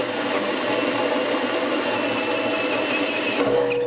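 A hole saw grinds through sheet metal on a 2-to-1 dust collector splitter in a wood shop. The steady, harsh whine lasts several seconds and then changes pitch near the end.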